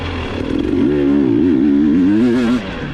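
A KTM 300 two-stroke dirt bike engine revs while being ridden, a loud, close, buzzing tone that climbs and wavers in pitch before easing off near the end, with no voices.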